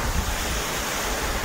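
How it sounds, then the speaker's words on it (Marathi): Small waterfall at Amboli, dropping from the forest above, heard as a steady broadband rush of falling water with a deeper low rumble, continuous and even throughout, with no voices. "हे बघा लहान धबधबा"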